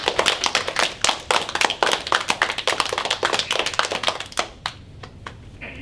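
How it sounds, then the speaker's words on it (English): An audience claps at a children's folklore performance, brisk uneven hand claps, close and lively, thinning into a few scattered claps before stopping. "Clap your hands. I want to clap your hands."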